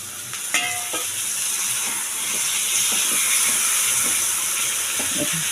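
Boal fish sizzles steadily as it fries in a spice paste with a little water added, with close hissing and bubbling and a few clinks of stirring. No one speaks.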